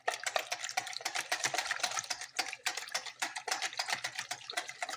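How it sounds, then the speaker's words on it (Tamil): Water and coconut oil being stirred together by hand for a cake batter, rapid rhythmic clinking and scraping of a utensil against the bowl, close and fairly quiet. "தண்ணி, தேங்காய் எண்ணெய் எல்லாம் சேர்த்து ஒன்றா தான் கலக்க போகிறேன்."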